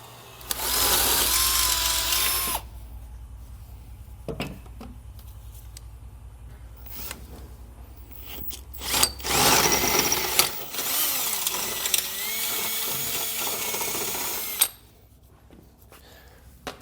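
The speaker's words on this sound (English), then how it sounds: "then we can drill a pilot hole" A power drill drilling a pilot hole on a 2022 Chevrolet Equinox runs in bursts, one short and one longer, with quiet pauses, clicks and handling noise between, then winds down.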